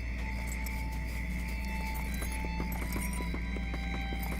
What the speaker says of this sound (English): you can actually hear a difference in sounds with our horses' hooves as they travel